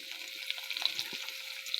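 Chopped onion, garlic, pointed gourd and coriander leaves hiss in a pan of hot oil beside fried chillies, a steady close sizzle with small crackles and no talk.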